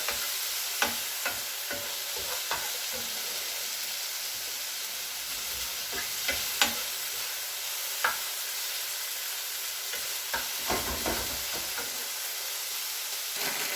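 Tandoori chicken for pastillas frying in a pan, a steady loud sizzle with occasional clicks and taps of turning or stirring, no talk.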